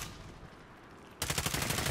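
Gunfire in Call of Duty: Modern Warfare breaks out suddenly after a quiet stretch, a rapid burst of shots that keeps building to the end.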